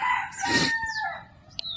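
A native-breed rooster crows once at a farm poultry shed, loud and close, its strained call rising and trailing off, followed by a brief faint chirp.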